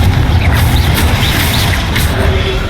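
A Confringo spell exploding in the Hogwarts Legacy video game, a dense, loud rumbling blast that sustains with low booming throughout, no talking.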